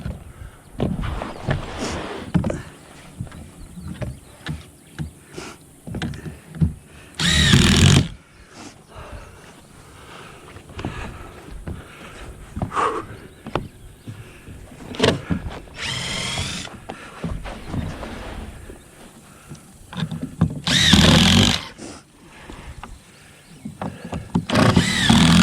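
A cordless power drill backs screws out during door and window construction work, with several loud bursts of whirring spinning up and stopping, set among scattered knocks and handling clatter.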